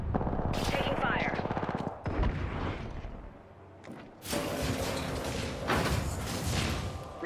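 Heavy gunfire in a ranked Apex Legends match, loud rapid bursts and thumping impacts filling most of the stretch with a brief lull midway, with occasional voices underneath.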